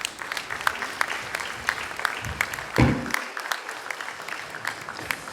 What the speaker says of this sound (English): Again, please give a round of applause.